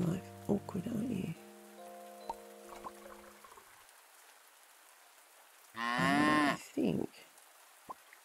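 A cow moos twice in the Pumpkin Days farming game, a long low call followed by a shorter one, after a stretch of tonal game sounds and quiet.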